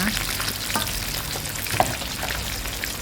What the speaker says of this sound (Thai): เราก็จะทอดให้อีกด้านหนึ่งสุกเหลืองเลยนะคะ